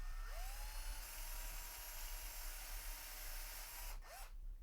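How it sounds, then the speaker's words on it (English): A drill bores through an aluminum RC car shock tower, a quiet steady whine with brief rising pitch sweeps as the bit spins up near the start and end. "get that connected up to your drill and just"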